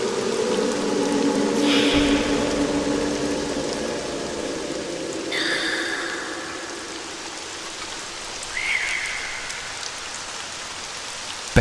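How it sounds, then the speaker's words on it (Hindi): Continuous rain falling as a steady hiss of drops on surfaces, used as a horror story sound effect, with a few brief higher tones rising over it and no talk. "लगातार बारिश की आवाज"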